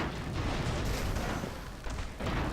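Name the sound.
airship guns firing in video game Airships: Conquer the Skies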